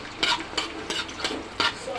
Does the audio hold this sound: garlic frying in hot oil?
yes